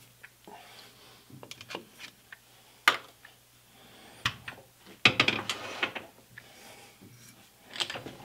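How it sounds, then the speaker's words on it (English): A bottoming tap is worked into a one-inch threaded hole in a Toyota Tacoma steering rack shaft, giving irregular metallic clicks and scrapes at close range, with short rests between the turning strokes. "I'm gonna run a bottoming tap down in there to make sure we've got nice, clean, straight threads"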